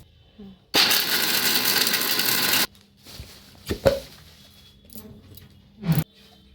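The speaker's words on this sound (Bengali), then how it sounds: "এবার একে একে আমি মিক্সিতে গুঁড়ো করে নেব এইবার আমি আমন বাদামটা গুঁড়ো করে নিচ্ছি" An electric kitchen mixer grinder pulverises almonds in a single loud, steady whirring burst of about two seconds, followed by faint clatter and handling knocks as the jar settles.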